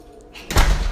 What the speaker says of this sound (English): Let me see if my door stays ajar.